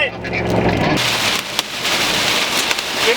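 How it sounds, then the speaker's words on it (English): Hail pelts a storm-chasing vehicle during a tornado-warned thunderstorm in Minnesota, a dense, loud drumming clatter mixed with wind roar, continuous through the whole stretch. "Getting some hail right now."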